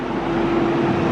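A truck rumbles past on a small-town square in Greenville, Georgia, a loud, steady low engine drone filling the whole brief moment with no voices over it.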